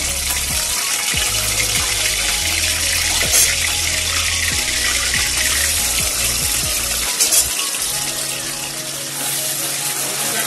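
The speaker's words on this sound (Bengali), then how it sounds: "একটু জল দিয়ে দিচ্ছি" Water pours into a pan of spiced paneer curry base, a steady gush and splash heard up close in a home kitchen, with a brief pause partway through.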